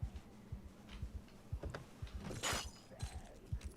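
Window glass breaks in the zombie survival game Project Zomboid, a single bright shattering crash set among quiet, soft ticking and thumping footsteps.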